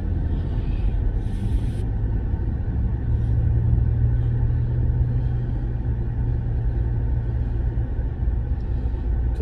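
Heavy road traffic rumbles steadily in El Tejar, Chimaltenango, Guatemala, a dense low drone of cars and buses moving close by, with a brief higher hiss early on and no talking.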